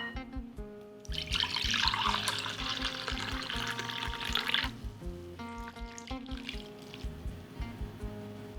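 Warm water poured into chapati flour runs steadily for a few seconds with a bright splashing rush, then stops, followed by quieter clinks and small drips.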